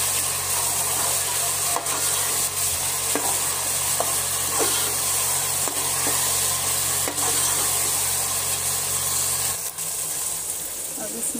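Ginger garlic paste sizzles loudly and steadily in a pan for chicken pulao while a spoon scrapes and stirs in a regular rhythm. The sizzle drops near the end.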